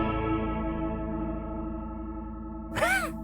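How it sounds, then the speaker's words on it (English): Guitar through a TC Electronic Plethora X1 pedal's mesh octaver effect: a thick, sustained distorted tone with stacked octave layers, ending in a brief swirling, pitch-bending burst. "Now I have this effect, this octaver,"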